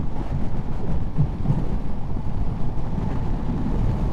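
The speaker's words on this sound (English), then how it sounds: "A little bit windy out here today." Wind roars steadily against the microphone while an adventure motorcycle cruises on a freeway, with dense low buffeting and engine rumble throughout and no speech.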